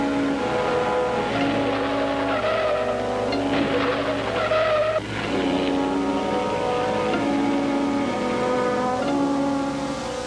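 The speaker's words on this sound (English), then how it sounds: "I drove away swiftly" A car pulls away fast in a radio drama scene, its engine loud and close with tire squeal and skidding, sustained for about ten seconds.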